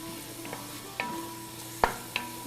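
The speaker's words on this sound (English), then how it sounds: "Saute them over high heat" Vegetables sauté in a pan over high heat with a soft, steady sizzle and a few sharp clicks of utensil against the pan.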